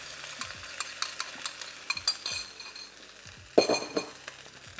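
Beaten eggs hit a hot pan of rice and sizzle while a spatula scrapes and clinks against the pan in repeated short strokes, with one louder scraping burst toward the end.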